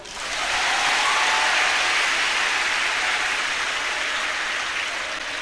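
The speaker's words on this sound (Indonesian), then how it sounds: "Tepuk tangan toh." Applause from a crowd at a religious gathering swells quickly into a dense, steady wash of clapping that holds for several seconds and then slowly tapers, with no talking over it.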